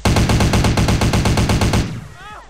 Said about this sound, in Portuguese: Novos sons das armas aí, como eu disse.